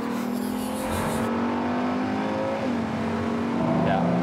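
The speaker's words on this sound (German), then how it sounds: "Der LaFerrari hat mit 800 PS den stärksten Straßen-12-Zylinder." A LaFerrari with its 800 hp road-going V12 engine hums steadily inside the cabin, then its pitch sweeps up and down as revs change, loud and sustained.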